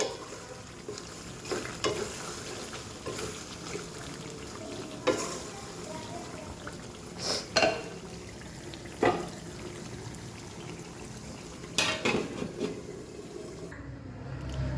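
Beef curry with jackfruit seeds is stirred in a pot: a constant bubbling simmer with periodic louder scrapes and clanks of the spoon against the metal, no talk.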